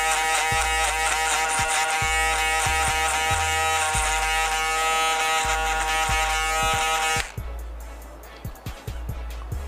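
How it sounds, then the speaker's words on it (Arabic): An Andis electric hair clipper set for an under-zero cut buzzes loudly and steadily up close during a haircut, then cuts off, leaving quieter clicks and handling noises. "هلا رح نجيب ماكينة ما تحت الصفر انديس، هاي هي شايفينها معي"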